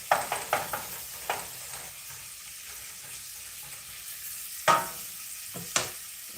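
Garlic frying in a pan, heard as a steady soft sizzle under a series of sharp clacks and scrapes from stirring, a few near the start and a couple of louder ones toward the end.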